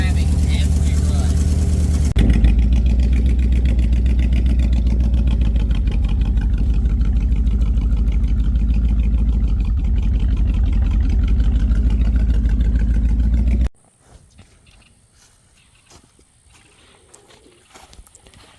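A 1972 Dodge Dart engine drones loudly from inside the car on its first drive, a steady low rumble lasting about thirteen seconds. It then cuts off abruptly, leaving near silence with faint rustles.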